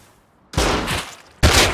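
Gunfire in the video game Rust: two loud, sharp bursts of shots, the first after a quiet moment and the second close behind, each ringing out with a broad crack and short tail.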